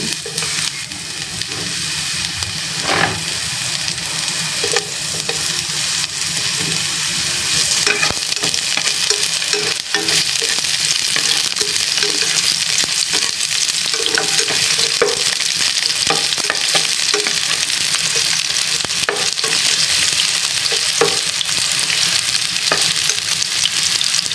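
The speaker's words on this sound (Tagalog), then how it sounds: "Igigisa na natin yung baka guys. So ilagay na natin itong onion." Beef and onion sautéing in oil in a pan, a loud continuous close sizzle with repeated spatula stirs and scrapes throughout, no talking.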